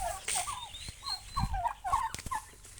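Chickens in a backyard poultry yard with roosters call in a busy run of close, repeated clucks and throaty gobbling notes, with no talking.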